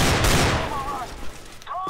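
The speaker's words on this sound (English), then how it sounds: "That's how you throw a flashbang" A flashbang grenade detonates in the CS:GO video game with a sharp, loud burst that fades quickly, followed by thin high ringing tones as the blast dies away.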